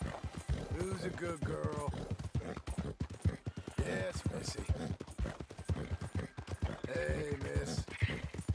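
Horse hooves clip-clop steadily in a PS4 video game, a rapid rhythmic clatter that runs throughout while someone speaks affectionately to the horse over it.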